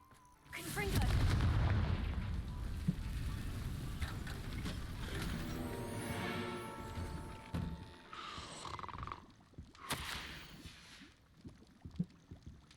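A fire spell cast in the video game Hogwarts Legacy sets off a loud booming blast followed by rumbling, crackling debris, with a voice speaking over the game sounds.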